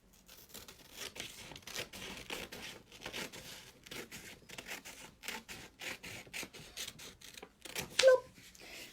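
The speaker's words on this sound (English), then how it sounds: "So I'm going to literally cut the first half off." A paper tangram square is cut in half with scissors, a series of quiet, close, rhythmic snips and paper rustles that repeat steadily, followed by a slightly louder crinkle near the end.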